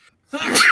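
A person sneezes once, close and loud: a quiet intake of breath, a short pause, then a sharp, bright burst of air that trails off.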